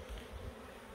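Honeybees buzz steadily around a beehive during the honey harvest, a dense and continuous hum with no talking.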